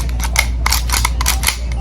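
A quick series of sharp metallic clicks and scrapes of a full-size stainless steel pistol slide being racked, close and crisp with a steady low hum underneath.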